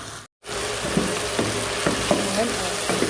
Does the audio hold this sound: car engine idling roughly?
no